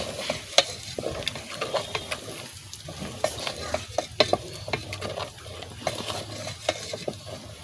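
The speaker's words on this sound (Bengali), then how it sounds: "তারপর আবার কিছুক্ষণ কষানো" A curry with eggs sizzles in a pan as it is stir-fried, with a steady frying hiss and frequent sharp scrapes and clinks of a spatula against the metal in an uneven rhythm, close by.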